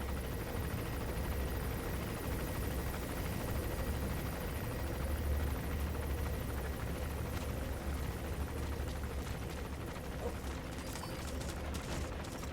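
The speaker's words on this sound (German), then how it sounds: "Da nimmt man einmal keine Raketen von mit und schon kommt ein Heli an" Helicopter approaching during gameplay of the video game Metal Gear Solid V: The Phantom Pain, a steady loud rotor drone holding throughout with faint mechanical clatter on top.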